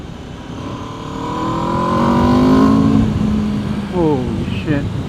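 A 2024 Aprilia RSV4 Factory 1100 sport motorcycle accelerating hard on the road, its engine whine rising steeply and loudly up close, then a quick shift and a fresh climb as it pulls away.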